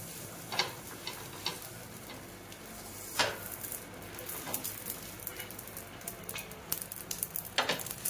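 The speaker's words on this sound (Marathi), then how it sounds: "आपण आता मस्त पाव गरम करूया बटर लावून." Pav bread buns heating in butter on a hot pan for pav bhaji, giving a steady soft sizzle with scattered light ticks and pops, close and continuous.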